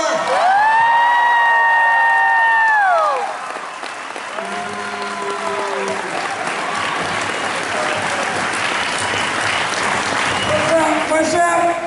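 Comic con audience at Motor City Comic Con 2017 bursting into applause and cheering for actor Michael Rooker, loud clapping with whoops and shouts, a long drawn cheer at the start and more whoops near the end.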